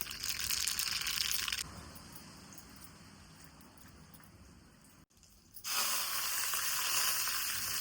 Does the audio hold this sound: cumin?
yes